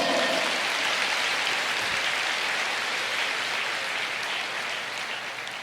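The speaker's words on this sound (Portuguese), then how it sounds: "Você pode aplaudir ao Senhor?" Sustained applause from a large church congregation, dense and even throughout, slowly tapering slightly toward the end.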